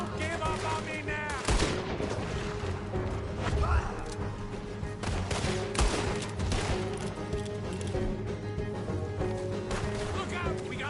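Rapid, continuous gunfire from a Red Dead Redemption 2 shootout, dense bursts and volleys crackling loudly for about eleven seconds with music and game noise beneath.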